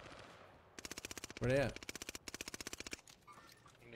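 Rapid bursts of Sten gun fire in a video game, several fast rattling volleys with brief gaps, loud and close, with a short spoken line partway through.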